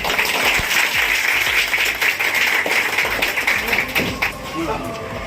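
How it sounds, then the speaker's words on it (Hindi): Audience clapping loudly in a classroom setting, dense and continuous, with a voice talking over parts of it. "एक बार आप लोग जोरदार फिर से ताली बजाओ।"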